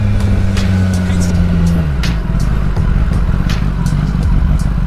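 A motorcycle engine drones close and steady while riding through road traffic, its pitch dropping and changing as it moves past other vehicles, with someone talking over it.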